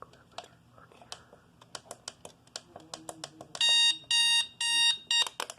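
An RCA alarm clock with an orange night light sounds its alarm in loud, repeating beeping bursts near the end, preceded by button clicks and taps close by.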